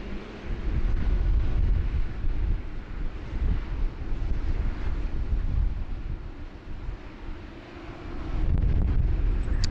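A heavy airliner taxiing toward the runway holding point at Sydney Airport in heavy rain and wind, a steady broad low rumble with gusty wind buffeting the microphone, swelling louder near the end.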